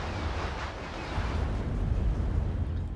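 Missile explosions and turret fire in the video game Act of Aggression, heard as a dense, continuous low rumbling roar of blasts and distant fire with no clear separate shots, steady throughout and without talk.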